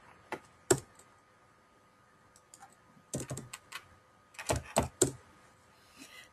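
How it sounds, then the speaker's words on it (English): Keystrokes on a computer keyboard as a cargo description is entered into a shipping bill form, coming in scattered short bursts of sharp clicks separated by pauses, close and fairly quiet. "I'm going to type in my cargo description."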